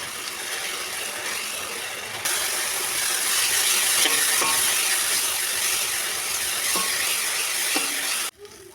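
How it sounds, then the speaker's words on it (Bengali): Spice paste with salt, turmeric and plenty of chili fries and is stirred in a pan for a spicy katla fish curry, a loud steady sizzle with occasional scraping clicks that cuts off abruptly near the end. "নেড়ে চেড়ে মশলাটা ভালো করে কষিয়ে নেব।"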